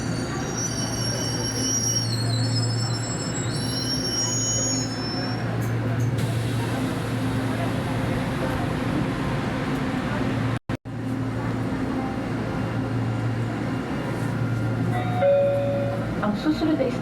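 An LRT 2 light rail train runs between stations, with a steady rolling rumble, wheel squeal and a brief sharp dropout midway, near and continuous throughout the ride.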